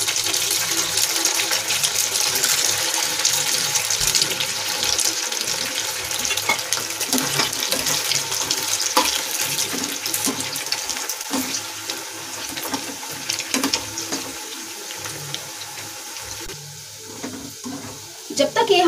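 Soya chaap fries in a pan of oil, producing a dense, continuous sizzle with crackles and pops throughout, fairly loud and close, while a voice talks intermittently over it.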